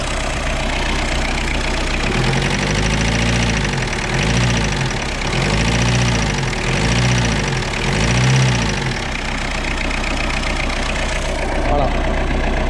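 A faulty, newly fitted engine in a Suzuki Baleno car runs steadily near the microphone with a rhythmic pulsing beat, while someone speaks over it.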